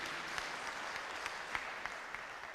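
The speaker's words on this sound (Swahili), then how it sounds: "tuwapigie makofi mzuri" Congregation applauding guests at a Presbyterian church service in Kamiti, steady dense clapping with sharper individual claps standing out, moderately loud and sustained without talk.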